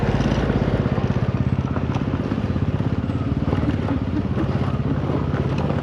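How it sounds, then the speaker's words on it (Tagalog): A steady, rumbling motorcycle engine drone with a pulsing low throb and wind rush, heard while riding in Coron, Palawan, continuous and fairly loud throughout. "First time ni Nicole umangkas sa motor"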